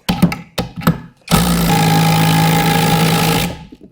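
DeWalt cordless impact driver driving a lag bolt, opening with a few short bursts and then a sustained loud rattling hammer for about two seconds before it stops, close and alone.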